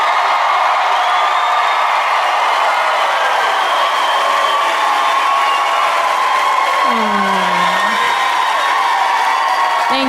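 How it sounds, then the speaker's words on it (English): A comedy show audience cheers and whoops from across a large room, a steady, loud crowd roar holding throughout with scattered shouts rising above it. "that's very kind of you to cheer for that."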